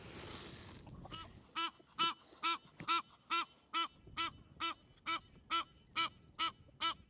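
A duck quacks again and again at a steady pace, about a dozen loud, nasal, evenly spaced calls standing out against quiet outdoor background, close to the listener.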